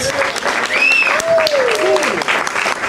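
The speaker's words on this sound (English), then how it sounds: "let me just get a round of applause from everybody" An open-mic crowd at a small gallery venue claps in a short, steady burst, with voices and faint whistles mixed in throughout.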